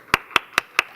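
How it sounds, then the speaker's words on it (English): Five sharp, evenly spaced claps within about a second, close and crisp with nothing else around them, at a public forum event. "Please clap."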